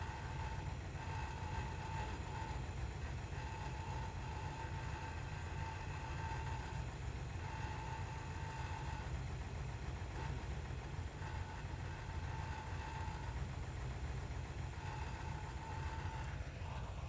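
An Iso Grifo's engine idles steadily while its carburettor mixture is adjusted, a continuous low rumbling drone with a faint whine, even and unbroken throughout.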